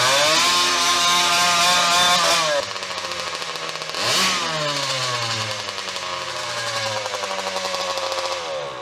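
Two-stroke go-kart engine running without a muffler, loud and raspy, revving up then dropping and revving again with rapidly sweeping pitch, close by and alone.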